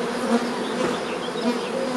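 Close, continuous droning buzz from many honeybees at an opened hive in spring, steady and unbroken with no talking.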